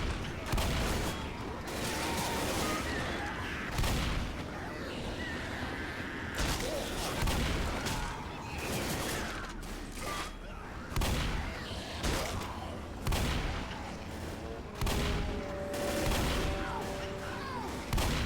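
Repeated bursts of gunfire in the game Left 4 Dead crack and boom in irregular volleys, loud and dense, with a voice talking in between.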